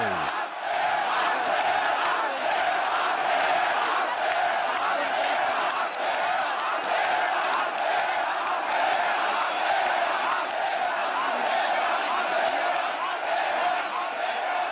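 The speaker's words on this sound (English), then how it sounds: "Suddenly a change in the crowd from attentive silence to deafening roars of go, go." A large crowd at a Middle East pro-democracy protest roars and chants without a break, a dense, loud wall of voices that stays steady from start to finish.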